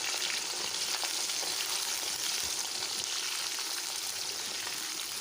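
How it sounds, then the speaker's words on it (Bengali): Potatoes and nigella seeds fry in a wok in oil left over from frying fish, village-style Bengali cooking, giving a steady, dense sizzle that holds evenly throughout at moderate volume with no talking. "আর কড়াইতে আমি কালো জিরে দিয়ে তারপর আলুগুলোকে দিয়ে দিচ্ছি"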